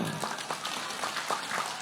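Audience applause at a Nahdlatul Ulama religious gathering in Indonesia greeting the Deputy Regent, a steady wash of many hands clapping through the moment with no voice on top.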